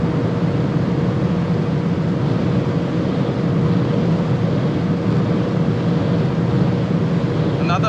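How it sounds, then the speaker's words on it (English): A BMW E87 123d diesel pushes hard at top speed on the Autobahn, a loud, steady roar of engine, wind and road noise with no clear breaks, heard from inside the cabin. "So I guess we're hitting here the rev limiter."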